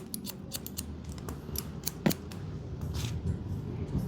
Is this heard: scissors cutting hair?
yes